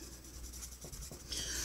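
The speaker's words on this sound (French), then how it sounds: "On l'entend frotter le papier" An economical colored pencil rubs across paper, a soft continuous scratchy friction heard close and quiet, strokes slightly brightening toward the end.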